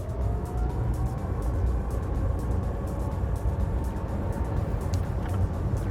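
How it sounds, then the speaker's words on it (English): Inside the cockpit of a Rimac Nevera electric hypercar while driving: a steady, fairly loud rumbling road and drivetrain noise with a faint rising whine, continuous with no talk. "One of the striking things about driving the Rimac is the sound. Electric cars are often very quiet. This one is not"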